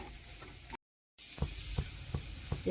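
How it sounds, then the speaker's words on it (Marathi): Onion fries in a pan with a steady close sizzle, briefly cut off by a moment of silence, then resumes with several knocks and scrapes from stirring. "कांदा भाजून घ्यायचा आहे घालून घेते कांदा"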